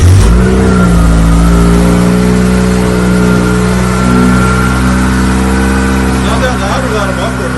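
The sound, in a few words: Mitsubishi 4G92 engine first start and revving in a 1993 Mirage Cyborg RS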